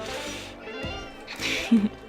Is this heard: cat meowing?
yes